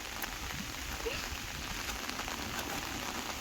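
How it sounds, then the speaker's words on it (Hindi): Heavy rain pours steadily on a bamboo trek in Meghalaya, a dense even hiss of drops on surfaces with a few sharper patters, continuous and close. "भाई बारिश ज़ोरों का आ चुका है और बारिश ज़ोरों का आ गया"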